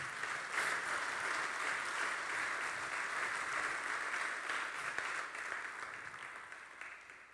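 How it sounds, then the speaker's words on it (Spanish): A church congregation claps together to praise the Lord. The applause is quiet and sounds distant, holding steady and continuous before slowly tapering off at the end. "Dale un fuerte aplauso al Señor."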